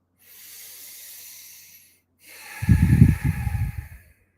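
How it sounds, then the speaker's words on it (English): Two long breaths through the nose, a soft airy inhale followed by a louder, rougher exhale, close up with no talking. "Deep belly breaths in and out through the nose."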